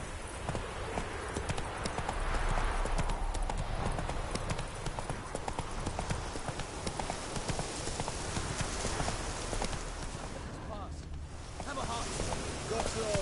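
Roach the horse gallops in a video game, hooves clip-clopping in a fast, steady rhythm that stays close and loud throughout, with voices talking over it.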